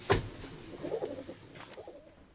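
A pigeon coos softly among other birds in a dovecote, low throaty murmurs near the microphone with a brief sharper sound at the start and background rustling.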